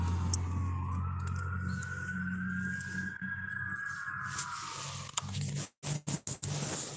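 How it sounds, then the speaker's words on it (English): An ambulance siren in Tillamook, Oregon sweeps in a long rising then falling wail over steady low traffic rumble, fairly loud and close, before cutting off abruptly into a few choppy bursts. "It's an ambulance."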